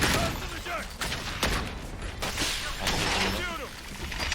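Rapid gunfire and weapon impacts in the tactical shooter Valorant, a busy cluster of shots and mechanical clicks running throughout beneath players talking.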